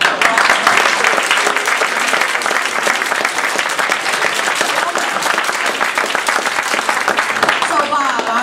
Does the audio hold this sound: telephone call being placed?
no